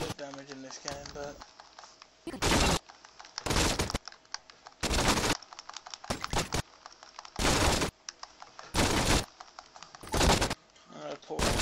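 Saints Row 2 video game gunfire crackles in repeated loud bursts of automatic fire, each lasting about half a second, alternating with stretches of someone talking between them.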